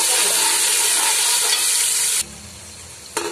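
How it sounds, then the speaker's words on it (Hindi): Garlic-ginger paste sizzles and fries loudly in hot oil with steady hissing, then the sizzle drops away abruptly before a brief stir. "लहसुन अदरक के पेस्ट को हम 1 मिनट तक भून लेंगे।"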